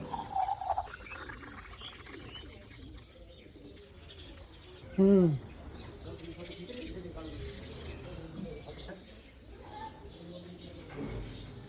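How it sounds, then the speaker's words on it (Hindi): Small birds near a temple in Khatu town: scattered chirps with a brief, loud dove-like coo in the middle, over a hum of outdoor background noise. "इस मंदिर के पास लगभग छोटे छोटे बर्ड्स होते ही हैं"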